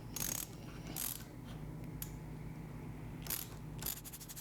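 A 6mm wrench tightens a bolt on a skateboard wheel, pressing an aluminum shim against the bearing. Short bursts of metallic ratcheting clicks come close up, with pauses of quieter handling between them and no voices.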